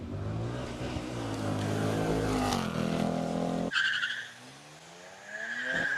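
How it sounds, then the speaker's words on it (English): Race cars at the Speed Classic hill climb in Cape Town echo up the mountain course, engines roaring and revving loudly with tire squeal, then fading into the distance before another car's engine rises again. "So all the cars, you know, it kind of echoes as it goes up the hill"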